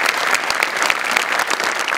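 Audience applause at a Marathi comedy show, a dense, loud burst of many hands clapping continuously for a couple of seconds with no voices standing out.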